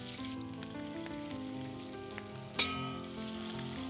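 Chicken frying in mustard oil with ginger garlic paste, a steady close sizzle and crackle with one brief sharp pop near the middle, alone without talk.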